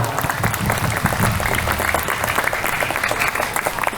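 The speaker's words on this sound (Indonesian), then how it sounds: "Tepuk tangan untuk kita semua." An audience at a gathering claps together after a recited pantun, a loud, sustained close wash of applause lasting throughout with no voices over it.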